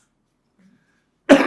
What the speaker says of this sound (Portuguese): É uma tosse desgraçada